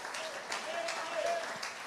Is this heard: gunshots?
no